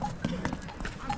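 Hooves of horses clip-clop along the Everest Base Camp trail near Namche Bazaar, a run of soft, uneven steps close by, heard under voices.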